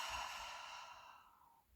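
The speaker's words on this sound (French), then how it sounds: "Puis on expire par la bouche." A slow, soft breath is let out through the mouth during a guided relaxation session. It is a single close, breathy exhale that fades away gently, with no talking.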